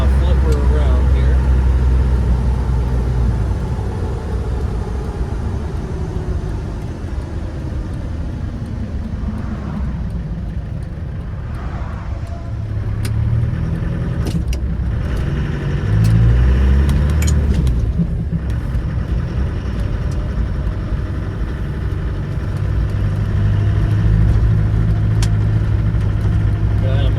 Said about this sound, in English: Runs down the road. It's actually pretty quiet in here for a Defender. Nice and smooth.